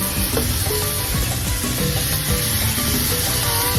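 Beef sizzling in a pot with oregano and other seasonings for a Puerto Rican sancocho, a dense, loud, continuous frying hiss layered with scraping and stirring sounds, and no talking.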